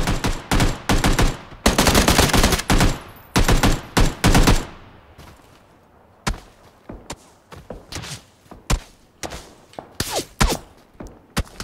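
Rapid bursts of automatic gunfire and single shots crack loudly in PUBG Battlegrounds, clustered in dense volleys early and then scattered, sharp reports with gaps between them.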